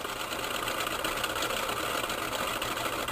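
Steady, even hum and whir of a three-phase AC induction motor with its rotor spinning down after power is cut, a constant dense drone close by with no voices.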